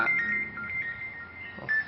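A phone rings with an automatic alert call from a power-outage warning system, sounding as a steady, fairly faint electronic tone that holds through the moment, with no speech.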